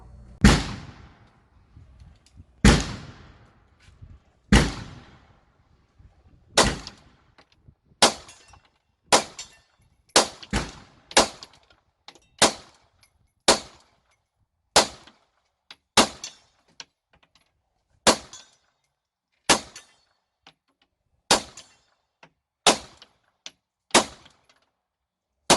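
Pistol shots fired at a 50-yard steel target ring out as about twenty sharp, loud cracks, spaced irregularly and sometimes in quick pairs, each with a short decaying tail, with no voices.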